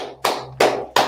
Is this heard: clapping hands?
yes